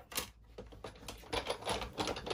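A Sizzix die-cutting machine feeds watercolour card through its rollers with quick, irregular clicking and clattering ratchet sounds. The sounds are faint and close, and there is no talk.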